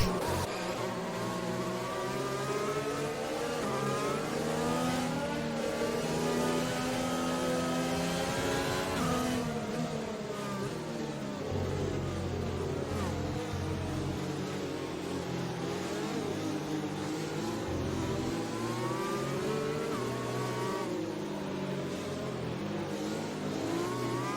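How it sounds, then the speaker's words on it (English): A Formula 1 race car engine in a video game roars steadily and loudly throughout, revving up and down as gears shift, with no voices. "Listen to that engine."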